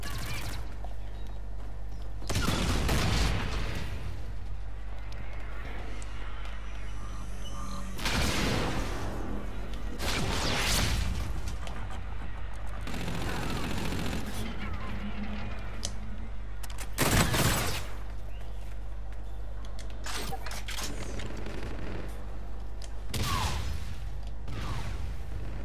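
R-VN assault rifle from Call of Duty: Infinite Warfare firing in several sharp bursts of rapid shots spaced apart, loud and close over steady game background noise.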